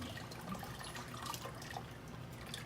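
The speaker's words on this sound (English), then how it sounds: "So what I'm gonna do is I'm just gonna pour the glaze" Ceramic glaze poured over the outside of a bowl runs down into a small bucket below, a faint continuous trickling and dripping at close range with no voices.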